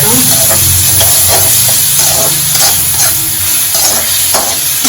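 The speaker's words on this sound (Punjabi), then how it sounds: "ਬਹੁਤ ਵਧੀਆ ਲੱਗ ਰਿਹਾ ਤੜਕਾ" Tadka of onion, tomato, green chilli and coriander frying in a pan: a loud, dense, continuous sizzle and hiss with rhythmic spatula stirring strokes, close up, with faint voices underneath.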